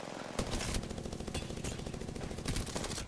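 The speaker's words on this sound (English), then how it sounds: "This gun just does not stop firing." Continuous automatic gunfire in the video game Apex Legends, with a fast, unbroken stream of shots at moderate volume and a few louder bursts, playing without voices.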